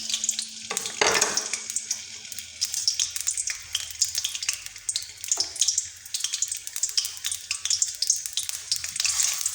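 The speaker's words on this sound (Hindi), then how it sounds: "जब ऑयल थोड़ा सा गर्म हो जाए तो आप इसमें जिंजर गार्लिक डाल दें।" Ginger and garlic sizzle in hot oil for a chicken karahi, a steady close crackling hiss with a louder burst as they hit the pan and small pops throughout.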